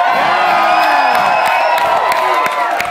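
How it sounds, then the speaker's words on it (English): Crowd cheering and whooping loudly at a live rap freestyle show in Seattle, a dense, sustained roar of shouts and yells from close by that carries through the whole stretch. "Please give him a cheer if you like him a lot."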